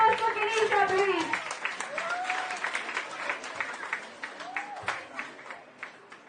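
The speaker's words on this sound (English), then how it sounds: "A huge round of applause for Kenisha, please" Applause from an audience at a school competition prize-giving during a solar mission outreach event, a broad burst of clapping that gradually thins out, with an announcer's voice over it early on.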